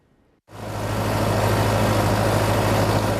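An old farm tractor on a pick-your-own farm in Copiah County, Mississippi, starts abruptly after a brief hush, then settles into a loud, steady low idle close by.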